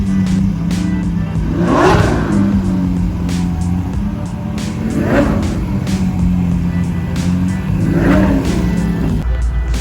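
Lamborghini Aventador SVJ supercars rev loudly and close by as they are moved, with three rising engine swells over a steady idle rumble.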